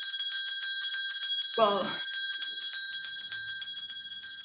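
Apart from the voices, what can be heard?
30 seconds to go warning bell in a competition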